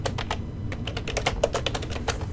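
Fast typing on a computer keyboard: a rapid, irregular run of crisp key clicks, close and clear, with no voices.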